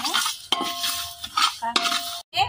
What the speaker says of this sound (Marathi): धणे टाकून सगळे मसाले टाकून आपण आता ते एकत्र भाजून घ्यायचं.